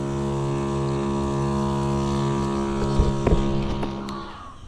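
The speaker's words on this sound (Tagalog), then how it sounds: "malakas naman yung motor." A motor hums steadily close by in a garden setting, a loud even drone with harmonic tones, joined by a few sharp knocks and rattles toward the end.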